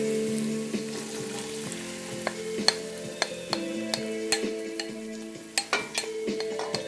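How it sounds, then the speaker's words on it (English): Red and white onions sizzle as they fry in a spicy turkey masala curry, a steady crackling hiss broken by repeated clinks and scrapes of a utensil stirring the pan. "so now I'm going to add my 2 onions"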